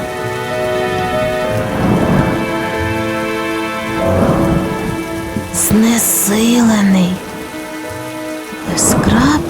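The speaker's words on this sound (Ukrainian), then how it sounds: "О, ні, шторм." A cartoon thunderstorm in a children's animation, with steady loud rain and rolling rumbles of thunder over a music score, plus a brief vocal sound partway through.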